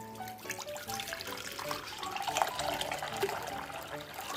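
Masala buttermilk, blended with water in a mixer jar, is poured into a bowl, a soft continuous liquid trickle and splash with faint clinks, quiet and close.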